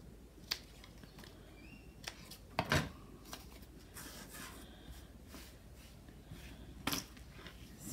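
Scissors snip paper tags in a junk journal crafting session, a few quiet separate crisp cuts and rustles spaced apart over near silence.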